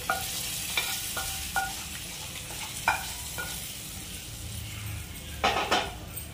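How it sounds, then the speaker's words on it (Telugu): A hot spice tempering is poured into yogurt and a spoon stirs the bowl, with a few sharp taps and clinks against the rim over a soft background hiss and a brief burst of sizzle near the end. "ఈ పోపుని పెరుగులో వేసేసుకోవాలి."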